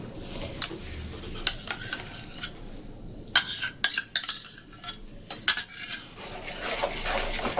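Rasmalai ingredients being stirred and mixed in a pot, with a utensil scraping and clinking against the metal in irregular bursts over a soft sizzle, close and fairly quiet, with no talking.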